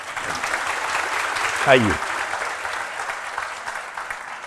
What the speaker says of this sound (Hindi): बस जोर से ताली बजाओ भाई।